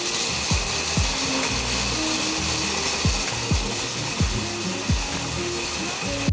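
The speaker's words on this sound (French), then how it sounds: "je vais mixer très finement nos pistaches" A kitchen blender grinds pistachios very finely for a gourmand green tea recipe, a steady whirring buzz broken by repeated sharp knocking pulses as the nuts are pulverized, with no one talking.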